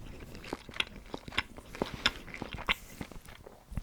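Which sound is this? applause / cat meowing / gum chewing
gum chewing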